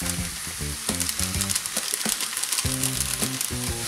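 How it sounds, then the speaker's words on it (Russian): Meat fries in a skillet with ketchup, salt, allspice, Provençal herbs and paprika, making a constant bright sizzle under repeated rhythmic scraping and knocking of a spatula stirring the pan. "И обжариваем, пока не посветлеет мясо"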